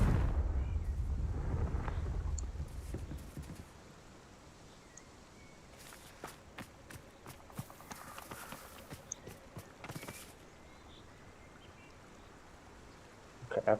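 A Confringo fire spell explodes in the Hogwarts Legacy video game: a loud, deep booming blast rumbles for a few seconds, then fades into quieter crackling and scattered game effects.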